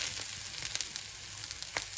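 Cut mushrooms fry in a pan with a soft, steady crackle and a few brief louder pops, quiet and close.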